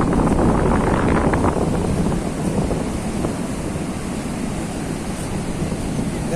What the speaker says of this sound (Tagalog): Pero mataas ang alon sa labas.